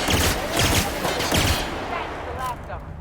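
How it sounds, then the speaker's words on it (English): Gunfire in The Outer Worlds, a rapid fusillade of loud, close shots in quick bursts that taper into softer, more scattered reports. "I'm shooting first."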